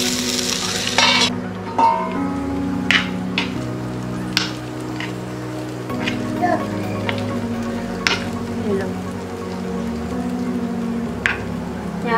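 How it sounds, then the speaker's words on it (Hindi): Potatoes and onions being stirred as they fry in a pan for poha, with continuous sizzling and scattered clinks and scrapes of a spoon against the pan, and a voice briefly at the start. "आलू को चला करके इसको हम ढक देंगे।"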